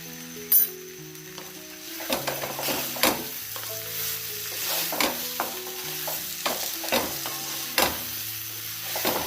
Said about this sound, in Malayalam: നന്നായി ഇളക്കി യോജിപ്പിക്കുക.